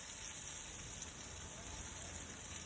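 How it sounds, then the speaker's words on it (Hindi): Sliced onions frying over high flame in a pan give off a steady, dense sizzle and crackle that continues without pause throughout. "फ्लेम को हाई कर देंगे और प्याज को करेंगे फ्राई 2 से 3 मिनट के लिए।"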